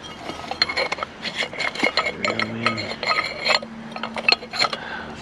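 Glass clinking and clattering as scrap is dug through inside a dark dumpster, with a run of sharp, irregular chinks and knocks at close range and no talking over it.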